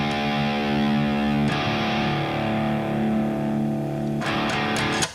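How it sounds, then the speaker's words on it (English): An electric guitar with its distortion dialed back toward a cleaner tone, sustained chords ringing out, restruck around the middle and near the end, with no voices. "got rid of some of the distortion, made it a little cleaner"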